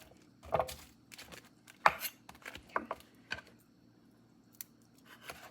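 Knife slicing banana sprout while preparing Khmer num banh chok vermicelli; a few quiet, sharp, irregular cuts and taps against a board, close and otherwise quiet.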